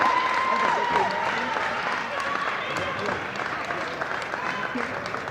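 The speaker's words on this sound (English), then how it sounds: "Get a little round of applause from the Shark crowd that's traveled up here." Traveling crowd at a girls' high school basketball game giving a sustained round of applause as a senior player leaves the court, steady clapping and cheering with an announcer talking over it.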